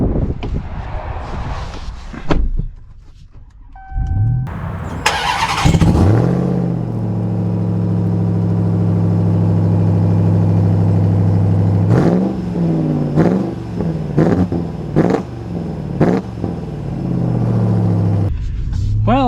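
A Ram TRX pickup truck's engine starts up with a sharp bark, then settles into a deep, loud rumbling idle punctuated by several quick throttle blips near the end.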